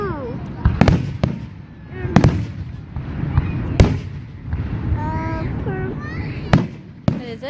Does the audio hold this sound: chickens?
no